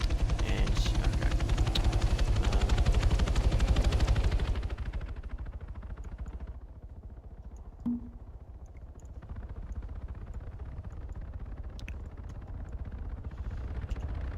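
Helicopters thunder in an Arma 3 AI-versus-AI battle, a loud rotor roar that fades after a few seconds into a distant rumble with a faint shot or thump.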